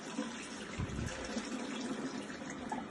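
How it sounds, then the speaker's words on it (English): Water pours steadily from cooked spinach as it drains during breakfast cooking, a continuous close trickling splash lasting the whole moment with no talk over it. "Get all the water out like that."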